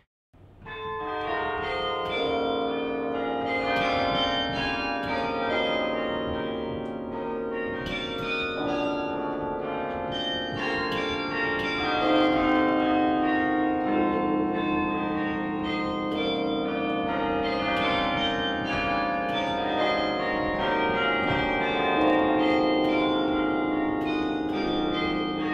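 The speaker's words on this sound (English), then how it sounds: "Playing the Bach Tower Carillon is very, very special" Carillon bells ring out at Bok Tower, the Singing Tower in Bok Tower Gardens, playing a steady melody of many overlapping bell tones with long resonant decay, loud and continuous with no voices.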